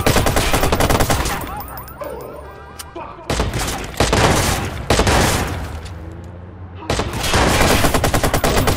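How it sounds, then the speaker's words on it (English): Sustained automatic AK assault rifle fire in Watch Dogs, loud and dense, sounding in long bursts with brief lulls between them, joined by other weapons and explosions in a chaotic firefight. "I gotta switch to AK, that has further range"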